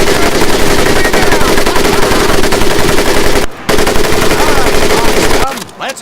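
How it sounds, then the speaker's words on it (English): An M1919A4 .30 caliber machine gun fires in long, rapid, loud bursts during Medal of Honor Pacific Assault combat, with a brief pause midway and a final cutoff. "the M1919A430 caliber machine gun"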